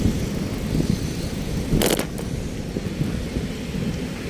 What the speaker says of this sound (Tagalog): Ito na nga yung ulan